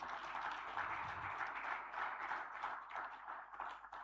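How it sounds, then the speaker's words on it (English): An orientation audience keeps up a soft, steady round of applause, the many-handed clapping blending into a continuous rustling wash at a fair distance throughout. "Please let's give him another warm applause"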